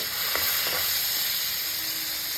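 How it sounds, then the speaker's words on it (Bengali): Potatoes frying in fish oil hiss with a loud, steady, close sizzle that runs unbroken throughout, with a couple of faint stirring clicks early on and no talk. "ভাজাভাজি চলছে"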